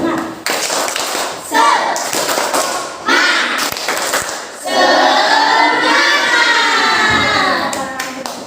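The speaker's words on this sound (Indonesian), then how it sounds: "1, 2, 3, tepuk semangat." A classroom of students performs a rhythmic spirit clap, bursts of hand claps and chanting voices filling the room loudly for several seconds, with children's voices mixed through the claps.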